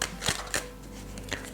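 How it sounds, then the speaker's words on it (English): Tarot cards being shuffled by hand during a reading, a few quick papery riffles and soft flicks in short bursts, fairly quiet and close, with no talking. "I'll just shuffle the cards until it feels right."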